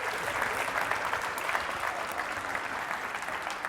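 Steady applause from an audience at a kids' culinary competition, sustained and even throughout with no voices breaking through.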